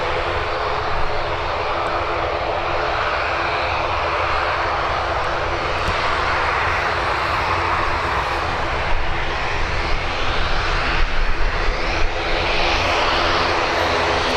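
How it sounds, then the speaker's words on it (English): An ATR turboprop airliner departs Birmingham Airport, its engines giving a loud, steady, broadband roar that holds throughout and swells slightly toward the end, close to the listener. "we've got an ATR departing as well."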